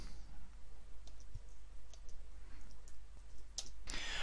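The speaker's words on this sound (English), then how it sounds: "I'm going to do a little bit more typing." Keys on a computer keyboard are typed while text is entered into a PowerPoint 2013 slide. The clicks come in sparse, scattered taps over a steady background hiss, faint and close, with no talking.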